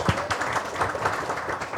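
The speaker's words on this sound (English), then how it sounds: "A big round of applause for Malini Nair, please." An audience at an architecture book launch breaks into applause, a brief dense patter of many hands clapping at moderate loudness with no voices over it.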